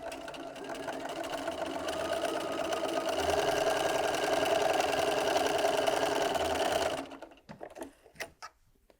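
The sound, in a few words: sewing machine sewing a quilt block seam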